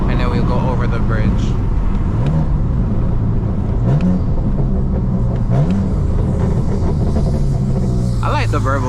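A manual BMW M3 rumbles and revs up and down with exhaust burble, loud and close from inside the car, with people talking over it.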